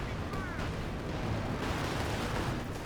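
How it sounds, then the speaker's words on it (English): Artillery shells from a Company of Heroes 2 battle slam into infantry, a dense, continuous rumble of heavy impacts and gunfire that stays loud throughout the short stretch, with no voice over it. "that was a good artillery hit on the infantry"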